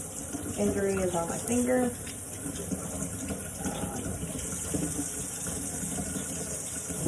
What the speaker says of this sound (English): I'm going to begin by washing my hands